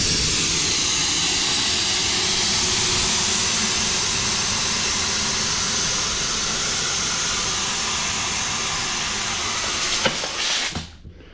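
Compressed air drains from an air-powered lift table through an on-off valve, giving a loud, steady broadband hiss close by that runs for about ten seconds before cutting off abruptly.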